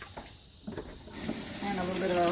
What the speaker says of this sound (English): And then I give it a swish in this soapy water